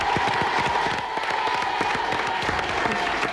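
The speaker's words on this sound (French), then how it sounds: "on vous applaudit" A television studio audience at a French football show anniversary broadcast claps steadily and densely throughout, a sustained wash of many hands close and loud with faint cheering mixed in.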